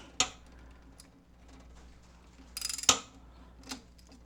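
A hand tool working a screw on an Ender 5 3D printer near the hot end: a few separate close clicks and ticks, with one short rattling burst partway through, under quiet room tone.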